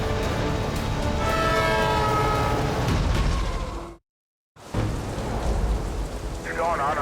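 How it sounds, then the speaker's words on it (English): Trains pass near a Trans-Canada highway crash site with a tow truck working: a loud, continuous rumble carries sustained horn-like tones, broken by a brief dropout, then the heavy roar resumes. "We got trains coming"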